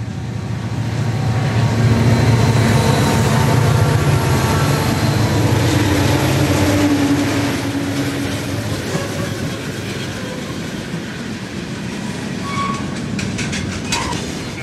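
A CSX freight train, Q592, rolls past on the Fitzgerald Subdivision around 2000–2001: a loud, close, continuous rumble of wheels and cars on the rails that holds steady for the whole stretch, with no talking.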